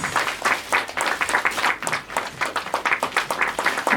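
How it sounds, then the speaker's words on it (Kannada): A crowd applauds at a film poster launch ceremony with dense, steady clapping that lasts the whole moment at close range. "ಚಪ್ಪಾಳೆ ಬರಬೇಕು"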